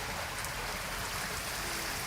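Clean spring water running through a small stream in a Japanese city, a steady broadband rushing and trickling that stays even and fairly close, with no voices over it.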